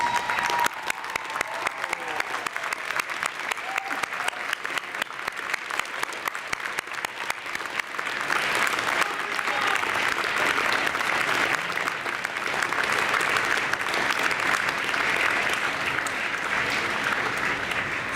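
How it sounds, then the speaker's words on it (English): Graduation audience at a university convocation ceremony claps in a large hall, a steady sustained wash of applause that swells and continues for the whole span with no talk over it. "by giving them a big round of applause"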